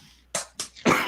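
A single close, loud sneeze in a home kitchen while batter is being mixed, preceded by two short sharp intake bursts before the final explosive release.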